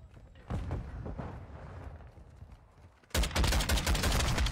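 Call of Duty gunfire on a multiplayer map: low, scattered shots early on, then a loud, dense burst of rapid automatic fire in the last second and a half.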